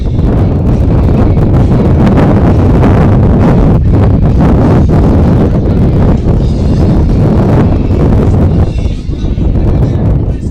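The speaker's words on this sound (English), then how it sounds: "Wind picking up." Strong wind buffets the microphone at an outdoor women's college softball game, a loud, constant roar of gusting air that stays heavy throughout and drowns out everything else.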